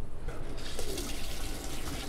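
Water runs steadily from the cold line of a faucet fed by a keg filtration system in Mexico, a soft continuous splashing stream close by with no talk.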